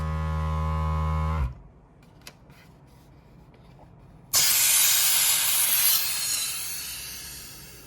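A Resiners Airless Pro3 resin vacuum chamber lets out a sudden loud hiss as its release lever is pulled, following a steady pump hum and a quiet pause, with the rush of air continuing and slowly easing.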